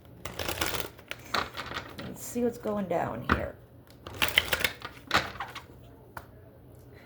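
Tarot cards are shuffled in several quick riffling bursts with soft slaps and rustles, while a person speaks briefly in between.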